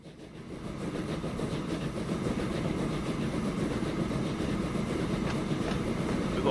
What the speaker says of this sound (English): We're going to follow this train.